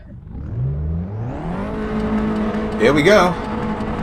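A race car launches from a standstill in the Assetto Corsa racing game, its small, frugal engine revving and climbing through the gears, with a brief tire squeal as it pulls away. Someone speaks briefly over the engine.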